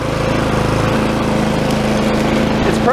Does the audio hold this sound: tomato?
no